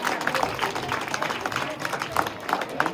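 Students clap at a college basketball court, a lively crowd's uneven applause mixed with chatter and voices throughout.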